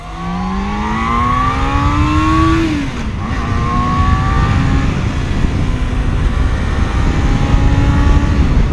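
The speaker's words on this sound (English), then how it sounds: "But it just still accelerates compared to my other bike with the same horsepower, just like really quick." A Yamaha FZR 600 motorcycle accelerating hard on the road, its engine whine climbing through a gear, dipping at a shift, then pulling again under steady wind rumble, loud and close with no talk.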